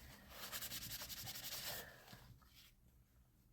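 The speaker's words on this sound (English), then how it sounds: "I'm going to take my paper towel and just rub across those stickers" A paper towel rubs across stickers on a mixed media bookmark, giving soft, continuous brushing and scrubbing strokes close up that fade out after a couple of seconds, with no talking.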